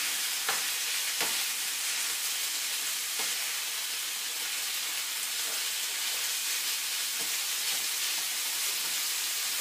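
Food being stirred and fried in a pan while cooking a Chinese dish, a broad, even sizzle with a few soft utensil scrapes and knocks throughout.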